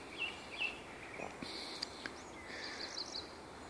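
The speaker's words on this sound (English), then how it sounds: "Listen to those birds." Birds chirp and sing outdoors, faint scattered tweets over a soft background hiss.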